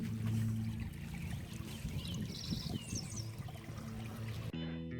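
Spring water rushes across a gravel road during the 2019 Nebraska flooding, a continuous close trickling and pouring flow over a low steady hum, cutting off abruptly near the end.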